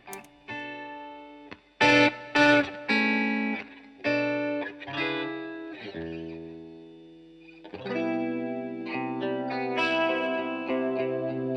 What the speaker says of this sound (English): It's definitely like the late 80s, early 90s kind of chorus.